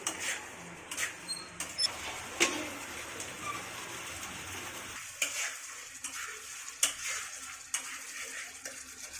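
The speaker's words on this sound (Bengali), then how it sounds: "আরেকটু কষাবো, তখন জল দিয়ে ফুটিয়ে নামাবো।" Spiced vegetables, fried potatoes and pointed gourd with salt and turmeric, stirred in a pan as a Bengali curry is sautéed, giving soft scraping and sizzling with sharp utensil clinks, louder early then quieter.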